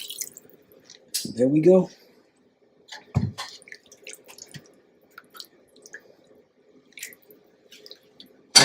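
Liquid sloshes and drips as it is swirled around inside a crockpot of beef stew, in soft, short splashes between pauses, with a brief spoken voice nearby.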